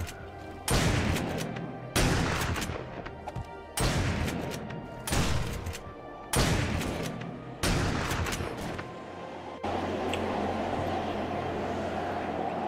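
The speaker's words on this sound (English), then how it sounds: "I hate those damn gunshots" Gunfire in the survival video game 7 Days to Die: a series of loud, booming shots in repeated bursts about every second or two, each with a long rolling echo, ending in sustained rumbling noise.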